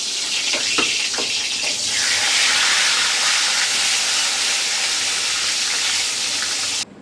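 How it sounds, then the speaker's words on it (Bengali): Eggplant slices frying in hot oil for a Bengali home meal give a steady, loud sizzling hiss that runs unbroken for about seven seconds before cutting off abruptly, with a few faint kitchen clinks near the start and no talking. "এইভাবে সব বেগুনগুলো ভেজে নিচ্ছি।"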